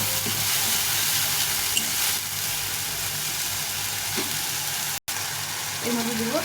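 Masala sautéing in a pan for a rohu fish recipe, giving off a steady, close sizzle and hiss that continues throughout, broken by one brief dropout, with a voice coming in near the end.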